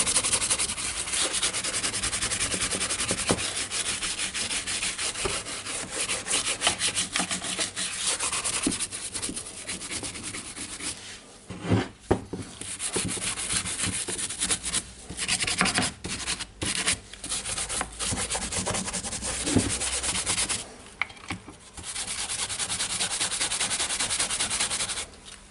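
A simple brush scrubs a sprayed Makita DJR187 cordless reciprocating saw, giving continuous close, loud bristly rubbing strokes with a few brief pauses throughout.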